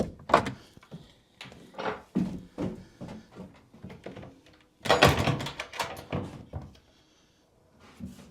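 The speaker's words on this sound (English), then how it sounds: "the Dutch door opens, the bottom half opens, or just the top, or both" A Dutch door with separate top and bottom halves is opened and handled indoors, giving a series of close knocks, thunks and rattles, with one denser burst of banging partway through before it goes quiet.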